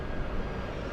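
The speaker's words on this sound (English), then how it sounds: "it looks like we have a colorful plane on approach" An airplane on approach to LAX airport in Los Angeles gives a steady, broad engine roar that holds at an even level for about a second, with no voices over it.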